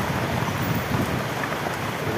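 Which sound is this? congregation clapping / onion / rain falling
rain falling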